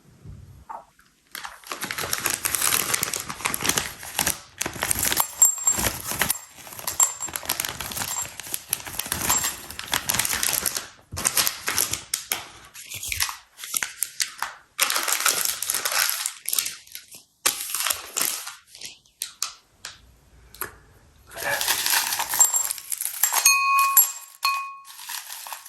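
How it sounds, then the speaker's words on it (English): Werther's Original caramel apple filled hard candies dropped into a glass bowl, sharp clattering clicks and rattles in bursts, close and crisp, with short pauses between pours. "I want to take these candy and put them into a glass bowl"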